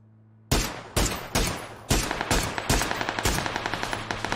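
Video-game gunfire: a few loud single shots, then a rapid automatic burst of evenly spaced cracks, close and dominant with no talk over it.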